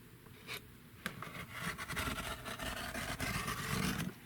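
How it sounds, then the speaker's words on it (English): A wavy-edged rotary cutter rolls through a paper lapbook cover, making a steady close rasping scrape with a few sharper ticks near the start. "So I'm going to go ahead and cut this on each side"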